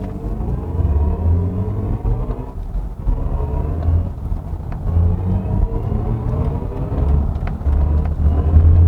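A BMW i4 M50 electric car cruising at low speed gives a steady, muffled low rumble with faint road and tyre noise, heard up close and from inside the cabin, with no voices.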